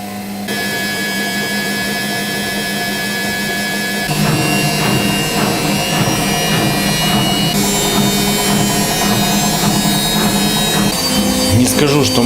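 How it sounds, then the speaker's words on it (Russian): A Hotpoint-Ariston VMSL 501 B washing machine hums and whirs steadily, its motor tone shifting as the drum changes speed, with a mechanical rattle underneath. "Машинка не спеша разгоняется, то увеличивая, то уменьшая обороты."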